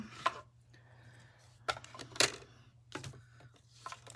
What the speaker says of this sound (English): So I'm going to cut out one in the Evening Evergreen and one in the Soft Succulent.